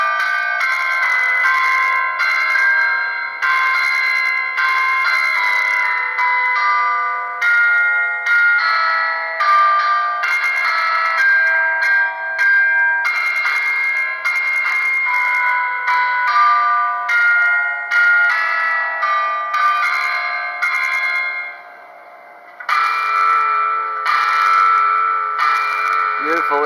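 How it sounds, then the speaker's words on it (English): Bells ring from the Palace of Culture in Iasi, a sustained melodic chime of repeating tuned strikes ringing out loudly and continuously for nearly half a minute, with a short pause near the end. "It's 10 o'clock and the bells are charming at the Palace of Culture."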